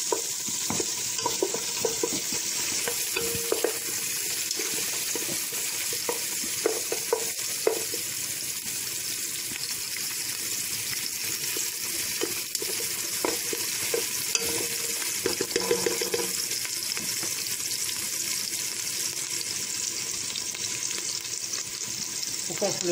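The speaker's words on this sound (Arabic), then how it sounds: "وكنخليو طبعا العناصر حتى كيندمجو مع بعض شوية، البصلة والثومة والسكنجبير." Onion, garlic and ginger fry in a pot for lentil and vegetable soup, a constant loud sizzle broken by repeated scraping knocks of a spoon stirring through the mix.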